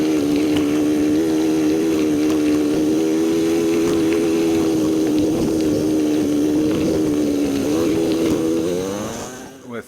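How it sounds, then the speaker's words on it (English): A motorcycle engine on a solo ride down Saline Valley Road, played eight times faster, becomes a loud, buzzing, nasal whine that holds a steady pitch, wavers slightly, then fades out at the end. "With 8 times the speed of the video, it even sounds like the old 2-stroke engines back in the day."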